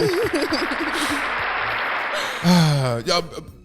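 Hands clap during a casual studio interview: a brief wash of clapping beneath loud, animated voices and laughter, which carry on after the clapping fades.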